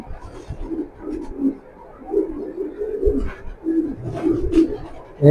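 Racing pigeons coo in soft, repeated rolling phrases, close by and moderately loud, with several overlapping calls across a few seconds and no talking.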